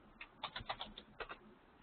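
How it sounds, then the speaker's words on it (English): Clicky keystrokes from a computer keyboard during an online remote viewing webinar, a quick irregular run of faint taps heard alone over a quiet line. "I can hear you typing."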